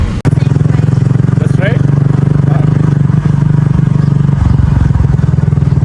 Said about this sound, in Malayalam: ഞാനാണ് ബൈക്ക് ഡ്രൈവ് ചെയ്യാൻ വേണ്ടി പോകുന്നത്.